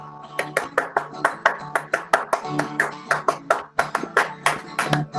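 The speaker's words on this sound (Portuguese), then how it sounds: "Bate umas palmas aí" Hands clap in a steady, brisk rhythm along with Brazilian folk music, a dense run of sharp claps heard close over faint background tones.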